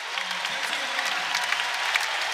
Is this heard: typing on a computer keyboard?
no